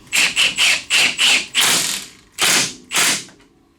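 Socket wrench ratcheting on a tie rod lock nut of a RZR Turbo, eight quick clicking strokes in an even rhythm, close and crisp with no talk.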